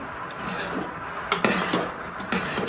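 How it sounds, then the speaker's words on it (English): Ogbono soup with maggi, dry pepper and crayfish being stirred in a pot, a spoon scraping and knocking against the metal in a few sharp clinks over a low, steady background, close by and with no speech. "We'll stir this now."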